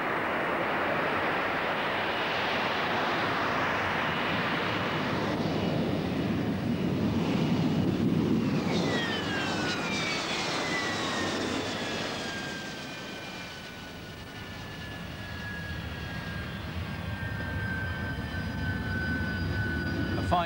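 A jet aircraft with a Pegasus engine slows for a short vectored-thrust landing at an air show at Biggin Hill. Its loud roaring rush fades into a falling high whine at middle distance while an announcer talks.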